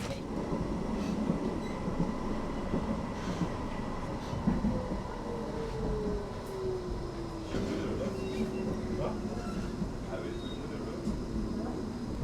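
A hybrid tram in Antwerp, Belgium rolls along its track from the inside, with a steady rumble of wheels on rail, occasional clicks and a faint wheel squeal, while a voice talks over it.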